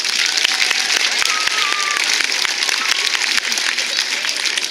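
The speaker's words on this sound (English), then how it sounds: "Let's give them all a round of applause." Students and guests at an outdoor restoration celebration give sustained applause, a bright, even clatter of many hands with a faint whistle or cheer.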